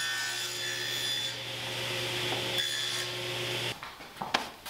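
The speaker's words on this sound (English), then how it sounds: "So I'm gonna miter the corners of all these guys" Saw cutting mitered corners on wooden tray pieces for a wine box, a steady humming cut with a rasping wood texture that stops abruptly, followed by a few knocks and rubbing handling sounds.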